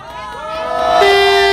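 A crowd at an outdoor political rally in front of the presidential office in Yongsan, Seoul, roars and cheers, swelling in loudness, with a sustained horn-like tone rising out of the noise near the end.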